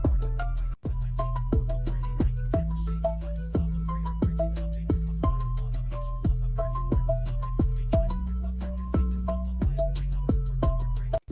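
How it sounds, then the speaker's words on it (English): Rap beat generated by Google MusicLM, with heavy looping bass, sharp repeating percussion hits and short melodic stabs in a steady rhythm, loud and continuous with no voices. "the rap on that beat is crazy"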